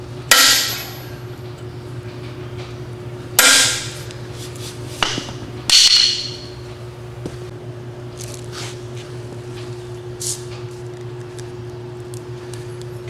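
A part is staked into a 1948 Chevrolet rear axle with a few sharp, close hammer blows spaced seconds apart, followed by lighter taps and quiet metallic handling over a steady hum.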